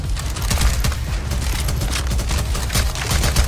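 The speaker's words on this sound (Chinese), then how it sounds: "往前开枪，往前开枪！" Rapid gunfire in a CS:GO zombie escape match, many overlapping shots and bursts crackling close and loud in a continuous barrage, like automatic weapons firing together.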